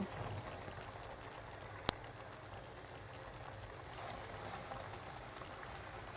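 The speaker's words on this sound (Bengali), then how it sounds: "একটা প্যানে আমি পর্যাপ্ত পরিমাণ তেল নিয়েছি আর তেলটা আমি খুব ভালোভাবে গরম করে নিয়েছি এখন আমি চিকেনগুলো দিয়ে দিব" Pieces of chicken sizzle in well-heated oil in a pan, a steady faint hissing crackle throughout with one sharp click partway through and no speech.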